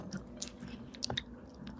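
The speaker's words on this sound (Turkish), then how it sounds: "Ağzını şapırdatmadan ye." Someone chews a crunchy homemade Starbucks-style cookie, crisp outside and soft inside, producing close, quiet crunches and bites in short irregular bursts.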